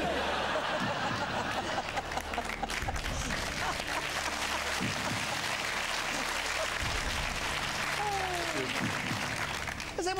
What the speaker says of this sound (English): Is everyone just clapping in for camping?